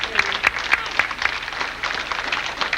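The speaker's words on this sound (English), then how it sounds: "Yes, you can clap for them." Audience applause for two field hockey coaches at a hall of fame ceremony, moderately loud scattered clapping that fills the room and holds steady, without any speech.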